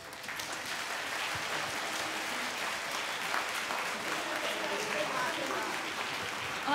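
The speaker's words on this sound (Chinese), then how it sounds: "来，我们再次给他们最热烈的掌声。" Warm, steady applause from a concert hall audience after a choir performance with a band, a continuous wash of clapping with a voice speaking over part of it.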